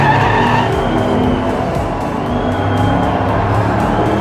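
Diecast toy race cars drifting around a miniature track, giving a loud, continuous skidding hiss with tyre-squeal-like whine and rolling rumble throughout, with no voices.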